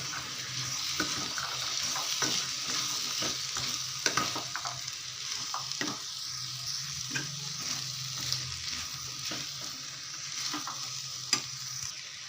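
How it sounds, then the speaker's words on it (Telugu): Boiled chickpeas are stirred in a pan over faint frying sizzle, with a spoon scraping and knocking in an irregular rhythm throughout, close and fairly quiet. "ఇప్పుడు మనం ఉడకబెట్టుకున్న శనగలు అయితే వేసుకుందాం. వేసుకొని కలిపేసుకుందాం."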